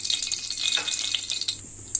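Cooking oil poured into a heated pan on a stove while preparing hotel-style aloo puri curry, a continuous soft hiss and sizzle, fairly quiet and close, with no talk.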